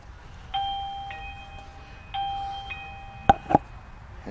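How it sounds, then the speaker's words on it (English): A PLACUY video doorbell chime rings twice, each a clear two-tone electronic ding-dong over a faint room hiss, followed by two sharp knocks or clicks. "Now all I gotta do is hit the doorbell."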